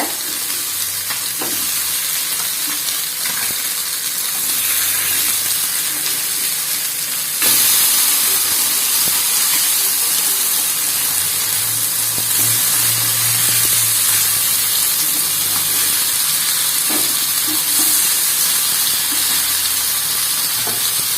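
Fish frying in a covered pan at home, giving a loud, continuous sizzling hiss that holds steady and grows slightly louder partway through, close by with no talk.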